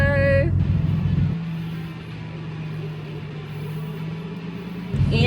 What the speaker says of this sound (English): Here we go, first drive of the Bodo.